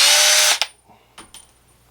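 A small Lee hand tool chamfering the inside of a brass rifle case while reloading 300 Blackout: a brief loud whirring scrape, then a couple of faint light metallic clicks, close up.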